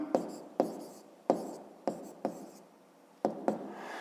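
Pen writing on paper during a fifth-grade maths exercise, heard as a series of short scratchy strokes with brief pauses between them, close and fairly quiet, with no talking.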